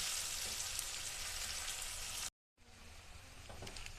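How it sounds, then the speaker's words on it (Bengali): Taro pieces sizzle as they fry in hot oil, a steady close crackle that cuts out briefly and then resumes more softly, with a few stirring clicks near the end. "কচুগুলো ওরকমভাবে হালকা করে ভেজে নিতে হবে,"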